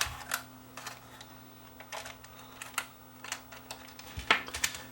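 A Sony CCD-TR23 8mm camcorder, powered up, gives off a series of sharp, irregular mechanical clicks and ticks over a faint steady hum, close and quiet with no voices.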